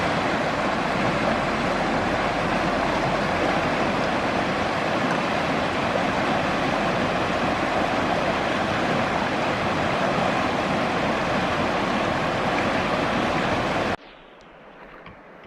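A GoPro camera held submerged in stream water at a conservation area gives a loud, steady underwater rushing and churning roar that cuts off abruptly near the end, leaving faint ambience.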